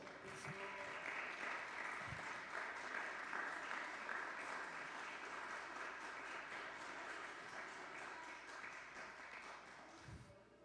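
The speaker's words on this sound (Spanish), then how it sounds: "Dale un aplauso a nuestro Dios." A church congregation applauds together during a Spanish-language sermon, a steady, dense wash of clapping that fills the room evenly from start to finish with little variation.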